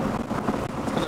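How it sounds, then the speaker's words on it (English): Steady wind from approaching Hurricane Beryl buffeting a microphone outdoors on a sailboat in a mangrove, a dense rushing roar with gusty swells throughout. "Really windy tonight."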